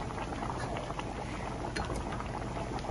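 Cocoyam pottage bubbles in a pot, a soft steady broadband simmer with faint irregular bubbling pops, low in level and without voices.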